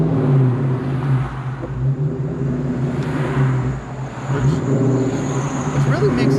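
A 1997 Ford Mustang SVT Cobra engine runs rough and close, a steady uneven idle rumble that wavers and sags throughout.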